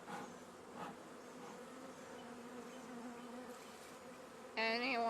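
A dense, steady drone of many honey bees buzzing close by on a hive frame, with a brief louder burst near the end as some fly nearer.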